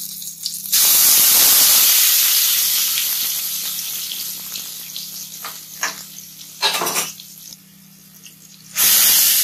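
Cumin, cloves, cinnamon and ginger garlic paste sizzle loudly in hot oil for an egg curry, a steady bright hiss that fades gradually, with brief bursts of stirring and a fresh loud sizzle near the end.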